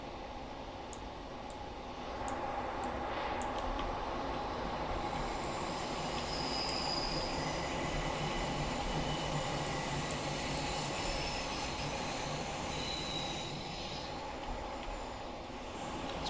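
Class 455 electric train running on track through South London in a train simulator game, a steady rolling rumble with faint rhythmic wheel clicks, level and continuous for the whole stretch.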